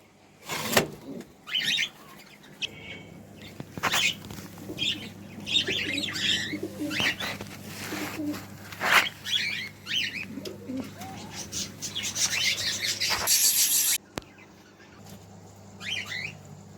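Caged cockatiels and budgerigars chirp and call in a busy mix of short tweets and coos, with a low steady hum beneath and occasional louder bursts nearby.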